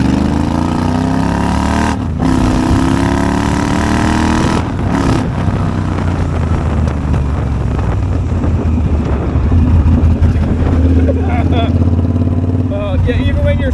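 Triumph Bobber motorcycle engine running loud and steady, with revving and downshift-style rises and dips, wind rushing over the microphone, and a voice talking over it.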